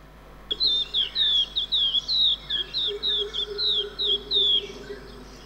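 A white-rumped shama sings in Goa, 2003, with a run of short, clear, whistled phrases repeated in quick succession for several seconds. The voice is bright and close, with a faint hum underneath and no talking.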